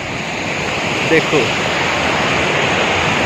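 A hillside waterfall near Chakrata in Uttarakhand roars as a dense, steady rush of falling water close by in rainy weather, with someone briefly speaking over it.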